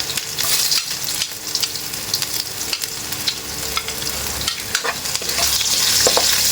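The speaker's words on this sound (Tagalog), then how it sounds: "Ipa-fry muna natin ng konti yung ating luya, no?" Ginger frying in a pan as the first step of adobong carp, a steady loud sizzle running through with bursts of stirring and scraping, no voices.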